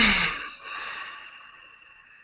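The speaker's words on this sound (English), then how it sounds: "breathing together" Several people breathe together during a guided grounding exercise: one long, audible exhale, airy and close, fades gradually into quiet.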